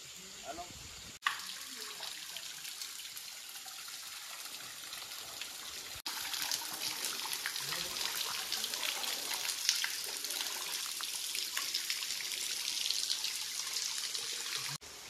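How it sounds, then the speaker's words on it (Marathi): Clean water flows at a rocky spot on the Mahuli fort trek, a continuous close trickling and splashing that swells louder partway through, with occasional knocks and people talking over it. "इकडे आय थिंक पाण्याचा आवाज येतोय."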